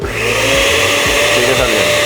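Blender fitted with an extractor filter running at full power, a loud, close, continuous whirring hum with faint rhythmic thumps from the contents churning.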